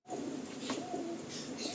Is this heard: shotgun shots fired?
no